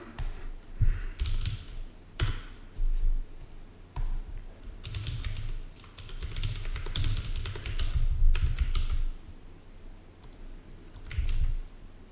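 Someone types a password on a computer keyboard nearby, in irregular bursts of quick key clicks with short pauses between them. No one speaks.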